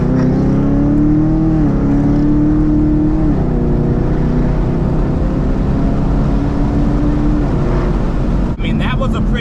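A Procharger-supercharged Camaro SS engine drones loudly from inside the car during a pull, its pitch shifting in steps as it runs up through the rev range with a steady mechanical whine underneath.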